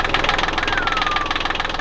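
A sailboat's inboard engine running steadily right after a quick start, a close, continuous knocking idle with an even mechanical rhythm throughout.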